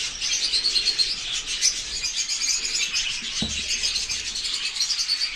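A dense chorus of many small birds chirping and twittering continuously, with a brief low thud partway through.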